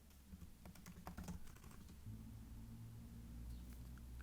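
A password is typed on a computer keyboard in a quiet burst of close, quick key taps over a low background hum, fading after about two seconds.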